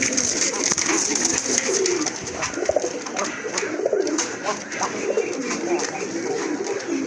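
Pigeons coo steadily at a bird market stall, soft throaty calls repeating under a busy, noisy background of people talking nearby.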